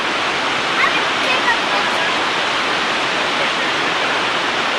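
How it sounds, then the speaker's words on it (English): The Lower Falls in Yellowstone roar as a dense, steady wash of falling water heard from the brink, loud and unbroken throughout. "We are now at the brink of the lower falls."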